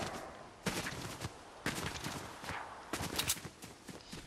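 Gunfire in the video game Fortnite comes as several short bursts of shots, sharp and fairly near, with quieter sounds between volleys and no talking.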